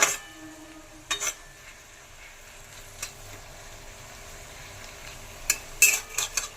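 Prawns stirred in a pan for a bati chorchori: a soft low sizzle underneath, with a few sharp clinks of a spatula against the pan, one early, one midway and a cluster near the end.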